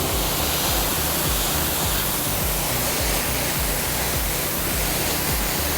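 A loud, continuous hiss of pressurized water spray from a washer nozzle while washing a car, steady and close, with no talking.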